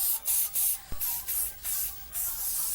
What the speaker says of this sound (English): if you buy weights that look old, you can just touch them up with a little spray paint